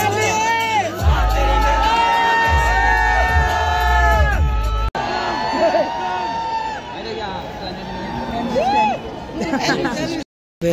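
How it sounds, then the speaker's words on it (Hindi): A huge crowd at an Elvish Yadav meetup in Tau Devilal Stadium, Gurgaon, cheering, whooping and shouting loudly and continuously, with voices talking nearby and a brief cut midway. "बेसुमार भीड़ है भाई सारे यूट्यूबर ही हैं यहाँ तो"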